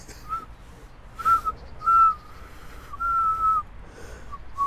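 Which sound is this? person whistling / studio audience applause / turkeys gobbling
person whistling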